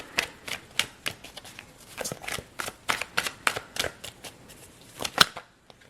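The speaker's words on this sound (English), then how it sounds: "like 3 cards flipped over" Tarot cards are shuffled, handled and flipped over in a run of crisp, close slaps and riffles, irregular but steady, with a sharp flip near the end.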